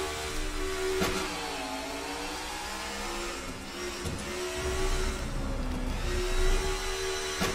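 A steady, droning NASCAR race car engine in a video game at Circuit of the Americas whines continuously, its pitch shifting slightly as it revs and eases off, loud and without any talking.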